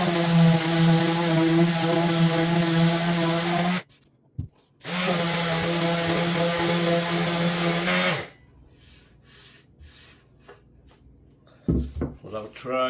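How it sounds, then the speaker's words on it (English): A power sander with 80 grit paper runs on a wooden cutting board in two loud, steady whining bursts of about four seconds each, followed by quieter rubbing and handling sounds. "Just a quick blast with 80 grit"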